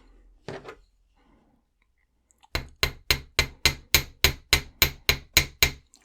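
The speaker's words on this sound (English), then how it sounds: "a lot of people say you can't hammer this wire, but let's find out" A brief soft knock, a pause, then eleven sharp, evenly spaced hammer strikes flattening enameled wire ring out close by, each with a short metallic decay.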